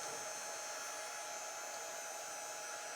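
A hair dryer blows steadily and continuously while drying a Club Couture craft transfer, a constant airy whoosh with no pauses.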